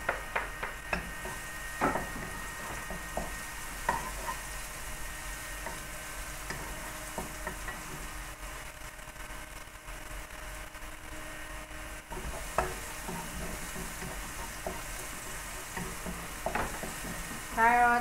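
Garlic and white onion stir-fry in a hot pan for spicy egg hakka noodles, a continuous close sizzle with intermittent clanks and scrapes of a spatula, fairly quiet and without speech.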